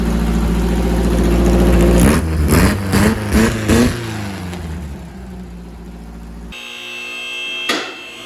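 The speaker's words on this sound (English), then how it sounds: "Fires right up. Give it a rev to excite the alternator." An air-cooled VW engine in a rail buggy cranks and fires, then is revved in several sharp bursts before settling to an idle, loud and close, with a brief knock near the end.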